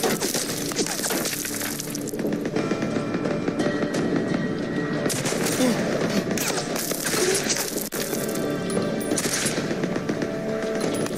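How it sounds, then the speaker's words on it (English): Rapid automatic fire from the Ripper gun in the video game Days Gone, dense continuous bursts of loud gunshots rattling on without a break amid game effects, with no talking. "That gun does a lot of damage."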